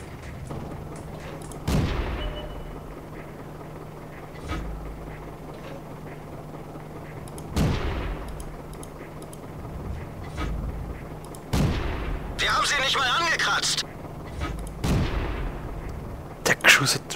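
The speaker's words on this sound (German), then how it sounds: "Oh ja, da hat er Pom-Pom-Geschütz" Pom-pom gun shots in the tank battle video game World of Tanks: several separate booming shots spaced a few seconds apart over steady engine rumble, with a louder burst of mechanical clatter midway.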